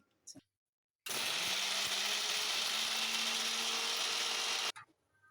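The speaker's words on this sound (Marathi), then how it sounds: "मी थोडंसं पाणी घालून वाटून घेणार आहे मिक्सरमध्ये" A mixer grinder blending crab legs with water whirs loudly for several seconds, a steady high-pitched electric roar that starts abruptly and cuts off, with a brief voice before it.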